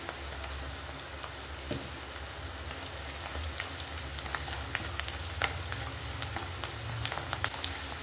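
Onions fry with turmeric in an even, crackling sizzle. Small pops and spits land irregularly over a low, steady background from start to finish.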